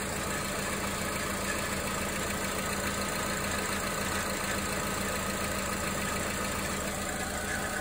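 A car engine settling into a steady, stabilized idle while its charging current is measured, a continuous close mechanical drone with no change in pitch and no voices.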